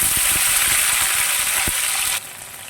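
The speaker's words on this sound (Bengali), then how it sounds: "কালো জিরে আর কাঁচা লঙ্কাটা ভালোই ভাজা হয়ে গেছে টমেটোটা দিয়ে দিলাম" Tomato goes into hot oil already frying black cumin and green chilies, giving a loud, steady sizzle with small stirring clicks before the sound drops away abruptly near the end.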